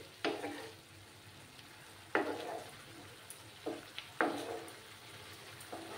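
Chapila fish curry with mustard being stirred in a hot pan, a few rough scraping strokes over a steady low sizzle, close and fairly quiet, with no talking.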